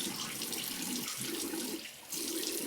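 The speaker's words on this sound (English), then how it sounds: "I'm just gonna rinse out the bowl now." Running tap water rinsing out a shaving soap lather bowl, a steady close splashing hiss with one brief dip near the end before it resumes.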